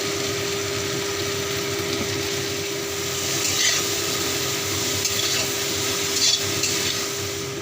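Steady sizzling of salted, turmeric-coated eggplant frying in a pan with potato, with soft scraping and stirring strokes now and then, close and continuous.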